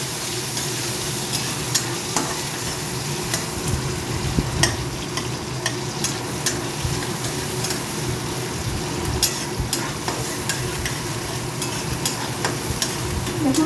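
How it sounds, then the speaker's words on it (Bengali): Onions sizzle steadily in hot oil for an egg curry, with frequent clicks and scrapes from a stirring spoon against the pan over a continuous crackling hiss, no speech. "এবার পেঁয়াজটাকে একটু হালকা গোল্ডেন হওয়া অবধি ফ্রাই করতে হবে।"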